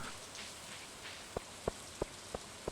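Light rain from Stardew Valley patters softly on the ground in the background, with a few sharper drop-like ticks in a regular sequence near the end.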